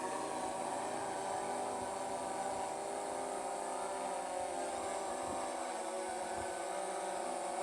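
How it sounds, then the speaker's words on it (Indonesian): A steady high-pitched propeller buzz from a drone climbing over horticultural fields drones on continuously, faint and at a distance, with no talking. "drone sudah mulai naik"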